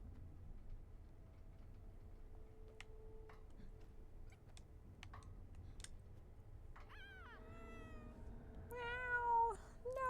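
Alan, a cat-like creature in the video game Planet of Lana, gives a few faint, rising meows near the end, above a soft ticking and low game ambience.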